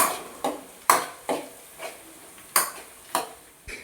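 Onions for chicken curry being stirred in a pan, a spoon scraping and clinking against the metal in about eight evenly spaced strokes over a faint sizzle, close and without talk.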